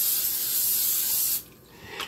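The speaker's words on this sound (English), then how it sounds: "I'm going to spray my pan with some of this olive oil spray" A short hissing burst of olive oil spray onto a pan lasts over a second, then stops, followed by a faint clatter.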